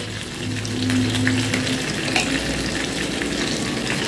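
Cauliflower florets fry with salt and turmeric in a pan over lowered heat, giving a steady close sizzle with soft stirring scrapes throughout, no voices.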